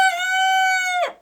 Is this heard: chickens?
yes